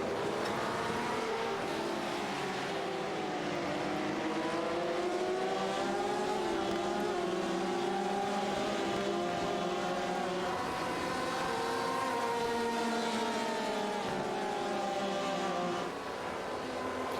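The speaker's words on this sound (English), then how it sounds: "Cars getting closer at the front." Race cars running on track during a race, a continuous loud engine drone with pitch rising and falling as cars pass and shift, several engines overlapping without pause.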